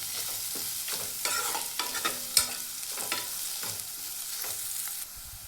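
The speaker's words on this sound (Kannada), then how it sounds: "ಈಗ ಇದಕ್ಕೆ ಕರಿಬೇವು ಹಾಕತ್ತೇನೆ ರೀ. ಇದೆಲ್ಲ ನಾವು ಎಣ್ಣೆಯೊಳಗೆ ಚೆಂದಾಗಿ ಫ್ರೈ ಮಾಡ್ಕೋಬೇಕು." Curry leaves crackle and sizzle in hot oil in a home kitchen, with steady frying hiss and scraping stirs spread through the clip, close and moderately loud, no voices.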